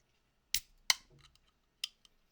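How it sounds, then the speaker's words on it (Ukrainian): A few sharp metallic clicks and a hiss as an energy drink can's tab is pulled open, then a couple of lighter taps afterward. "Та відкривання баночки енергетика."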